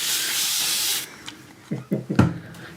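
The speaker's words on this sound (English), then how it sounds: "spray my canvas before I start" A spray bottle mists water onto an acrylic painting canvas in a long steady hiss for about a second, followed by a few short sprays with soft handling noises.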